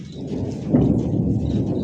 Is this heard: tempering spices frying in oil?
no